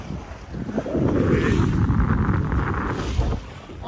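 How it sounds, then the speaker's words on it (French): A light crosswind rises over a sailboat at sea, a steady broad rush of wind buffeting the microphone with water swishing beneath, fairly loud and unbroken, no voices. "Voilà, petit vent à s'élever, vent de travers"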